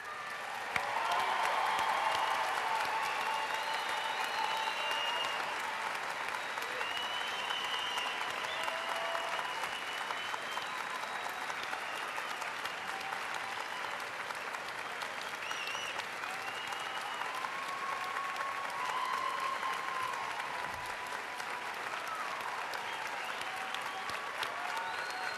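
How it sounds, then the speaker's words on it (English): Sustained applause from a large commencement audience honoring standing graduates at a 2011 winter university ceremony, steady and dense for the full stretch with faint crowd murmur beneath. "give you all a round of applause"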